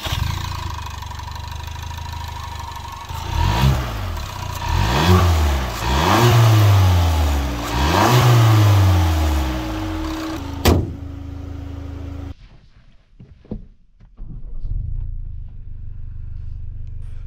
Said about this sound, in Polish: ale wydech już naprawdę ładnie mruczy i coś tam strzela